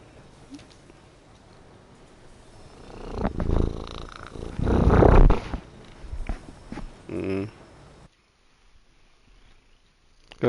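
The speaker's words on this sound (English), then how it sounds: "Got meowed at." A cat purrs and meows, soft at first and then swelling into louder bursts before fading out.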